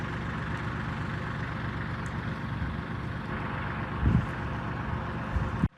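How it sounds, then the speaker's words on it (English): A four-wheel drive 1520 tractor idles nearby in a wooded maple and oak camp, a steady low engine rumble holding even throughout with a brief heavier surge near the end before it cuts off. "I'm always amazed at this tractor. It's a four-wheel drive 1520"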